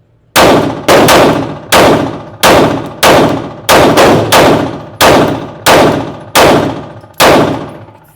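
Loud, close gunshots from a concealed carry handgun at a range, about a dozen sharp blasts fired at a steady pace with short gaps, each ringing out and decaying before the next, with no talking.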